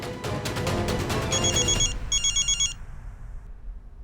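A telephone rings in a household scene, with a repeating electronic trill sounding twice over a busy, loud background that fades toward the end.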